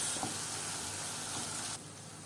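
Rice stirred and toasted with fried onions in a pan gives a soft, steady sizzle and hiss, with a faint scrape near the start, then drops quieter toward the end.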